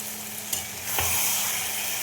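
Masala and okra (bhindi) sizzle steadily in a hot pan as they are stirred, with a soft scrape of the spoon near the start, close and continuous.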